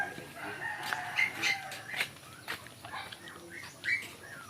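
Chickens cluck and a rooster crows repeatedly at moderate distance, the calls rising and falling over steady outdoor background noise.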